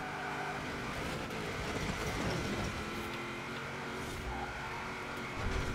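A car is driven in the video game Forza Horizon 4, its engine running as a steady, continuous drone with slight swells in revving and no talking over it.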